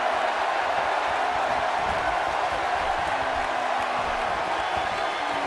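A WWE 2K18 wrestling arena crowd roars and cheers throughout women's match gameplay, a dense, steady wash of noise at even loudness with no breaks.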